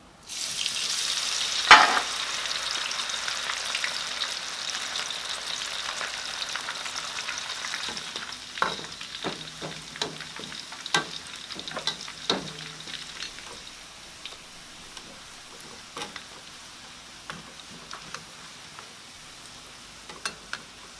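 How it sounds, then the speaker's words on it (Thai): Chicken pieces frying in hot oil for Hat Yai-style fried chicken, a steady close sizzle with a sharp burst near the start and scattered pops and stirring clatter, no talking. "เดี๋ยวเราแยกทอดของเรา"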